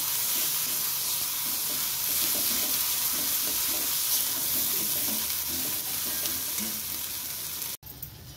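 Ground masala paste sautéing in oil in a pan for mixed vegetable curry, a loud continuous close sizzle with scraping stirs, cutting off abruptly near the end.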